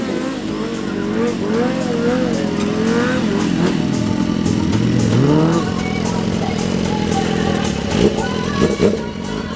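Motorcycles racing at Midvaal Raceway during a street-racing event, engines droning and revving steadily throughout, with a commentator talking over the noise.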